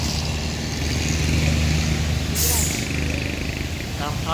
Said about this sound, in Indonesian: Ini bosku truk trailer yang bermuatan beton jembatan. akan mendaki di tanjakan Kedabuhan.